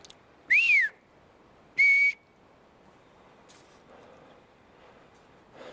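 Blue jays call outdoors: two loud, clear whistle-like notes, the first rising and falling and the second flat and level, followed by faint scattered sounds.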